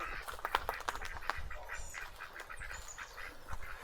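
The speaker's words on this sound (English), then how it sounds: "Oh, got the ducks." Ducks quack in a scattered, repeated chorus outdoors at a campsite along a trail ride, several calls overlapping at moderate distance over a light background hiss.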